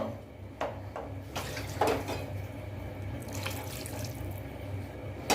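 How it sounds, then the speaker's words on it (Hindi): Water pours and splashes in short bursts into a cooking pot of Afghani chicken masala, a Pakistani dish, with a few clinks between the pours and no talking. "अभी इसमें 1 कप और पानी डालूँगा"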